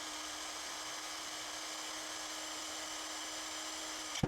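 A Fixtop 1000Nm cordless impact wrench spins freely in tightening mode at its lowest speed setting, producing a steady, high electric whine for about four seconds before a brief clunk at the end, with no voices.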